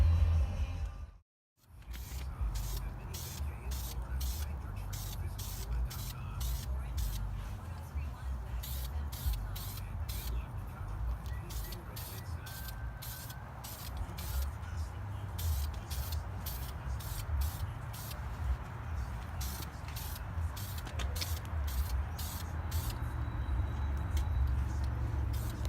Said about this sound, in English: we're gonna power wash it again